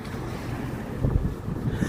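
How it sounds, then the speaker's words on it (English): Steady wind gusting across a microphone outdoors on a chilly night on a Toronto street, a continuous low rumbling roar that swells slightly partway through, with no talking. "on this windy, chilly night in Toronto"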